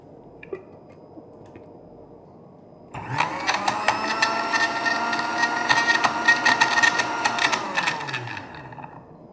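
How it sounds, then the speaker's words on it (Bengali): A kitchen blender whirs through a milk drink, switching on abruptly after a quiet start, running as a steady, loud motor buzz for several seconds, then winding down. "এখন জাস্ট ব্লেন্ড করে ফেলতে হবে আমাদেরকে"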